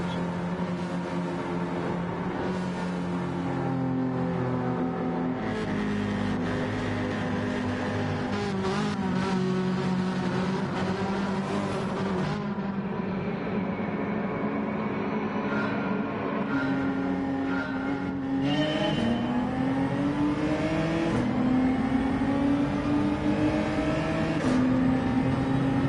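A race car engine in a racing video game, revving steadily with the pitch climbing and falling through gear changes, loud and continuous for the whole stretch.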